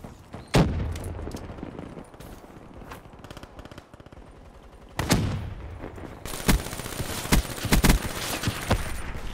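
Gunfire in the Call of Duty Black Ops III video game: a loud opening shot, then bursts of rapid automatic fire and sharp single shots in the second half, close and punchy, with no talking.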